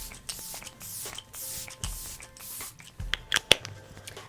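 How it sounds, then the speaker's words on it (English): A facial mist spray bottle puffing fine mist several times in quick bursts, close and soft hissing sprays with small clicks of the pump, no voices. "the mister is actually really nice. It's not aggressive in any way, and it gives you the most fine mist ever."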